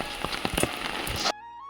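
Heavy rain falling, a dense close hiss of drops spattering on surfaces for about a second before cutting off abruptly.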